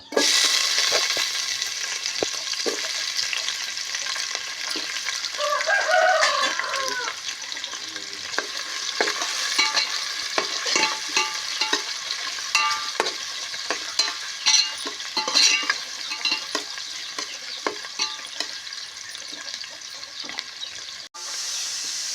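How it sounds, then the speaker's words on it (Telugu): Onions fry in hot oil for a dum biryani made with goat head meat, a steady close-up hiss and crackle with occasional stirring clicks that runs for over twenty seconds without speech. "Oil heat ఎక్కిందండి. ఉల్లిపాయ వేపుదాం."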